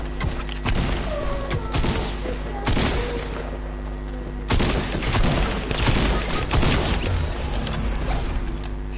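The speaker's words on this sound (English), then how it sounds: "Oh, I saw a gunshot." Video game gunfire in Fortnite sounds in bursts of sharp shots and rattling volleys, loud and near at first, mixed with mechanical clicks and reload sounds.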